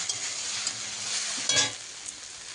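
Soybean chunks fry in a pan with a close, steady sizzle, and a brief spoon stir and scrape rises about halfway through the short stretch.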